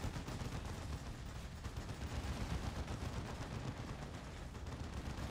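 Dense, sustained rapid-fire plasma minigun gunfire from Dawn of War 2 Chaos Rising, a continuous roaring chatter of shots filling the whole stretch with no let-up.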